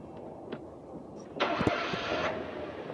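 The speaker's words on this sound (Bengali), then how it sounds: "মেবি কোনো গাড়ির, মানে গাড়ির স্টার্টিং সাউন্ড, যেটা ইঞ্জিনের।" A car engine starts up in the horror video game Evil Nun: quiet ambience first, then a sudden engine roar that catches and settles into a steady running hum.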